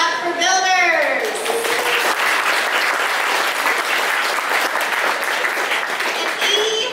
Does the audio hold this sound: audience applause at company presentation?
yes